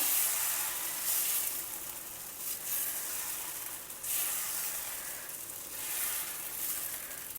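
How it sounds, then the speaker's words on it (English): Pearl millet (bajra) dosa batter sizzles steadily on a hot tawa, a continuous close hiss that swells and eases in soft waves, with no voices. "Now pour a little of batter on the tawa and spread it out into a circle"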